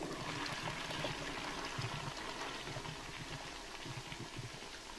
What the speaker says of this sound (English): We can flush the toilet now.